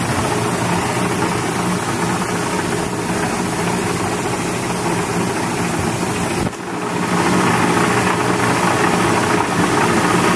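A used Famco 72-inch, 16-gauge mechanical shear runs with a steady, loud mechanical drone and gearbox whine, a brief dip near the middle before the hum resumes at full level.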